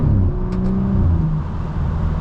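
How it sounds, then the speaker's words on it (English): A BMW F30 with a muffler delete drones steadily as its engine and exhaust hum, heard from inside the car at a constant loud level without speech. "Right now I just got a muffler delete"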